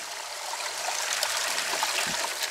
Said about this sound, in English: It just means that you're bucketing your own water.